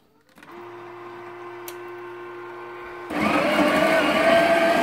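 An espresso machine brewing Arabica coffee: a steady mechanical hum and pump drone, then a louder, rougher rush as the brew flows, close and continuous with no speech.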